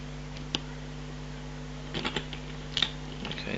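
Small sharp clicks come from the pins of a Kasp 40mm brass padlock as it is picked, a few isolated ticks and a short cluster of light metallic taps close up over faint hum.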